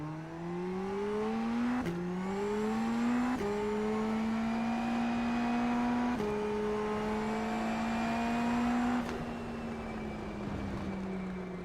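Race car engine in iRacing burbling at a steady, droning pitch, with several quick gear-change dips and rises and a faint crackle, close and continuous throughout.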